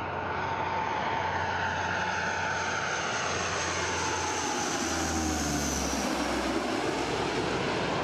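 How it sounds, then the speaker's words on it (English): An Ilyushin IL-18 turboprop transport from 1958, a type flown by the Russian Air Force and Navy, roars past, its engine drone rising and then falling away as it passes. "Another older transport is the Ilyushin IL-18 from 1958."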